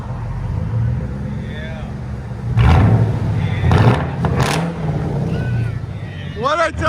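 A Lincoln Town Car V8 with a rear muffler pair and a middle suitcase muffler rumbles steadily at idle, swelling with a couple of short revs, while someone speaks briefly nearby.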